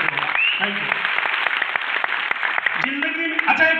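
Audience clapping at a motivational success seminar, a dense steady burst of applause lasting the whole stretch, loud and close, with a voice talking over it near the end.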